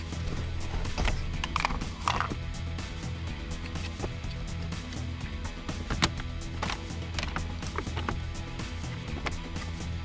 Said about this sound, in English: So right now what I'm trying to do is reattach the cover, but it's catching on something.